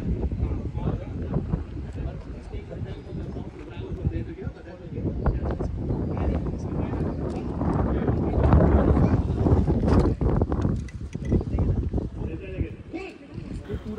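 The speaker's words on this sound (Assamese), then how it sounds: "ৰ'দ হ'লেও বৰ বতাহ দি আছে পুৰা সাগৰীয় বতাহ" Strong sea wind sweeps a Goa beach, buffeting the microphone in loud, gusty rumbles that swell and ease, with people talking through it.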